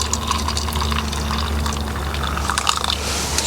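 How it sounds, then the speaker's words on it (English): Hot water runs from a central boiler's drain valve into two cups, a steady continuous pour and splash close up with a low hum beneath and no talking. "once I run it for a second, I fill up both cups"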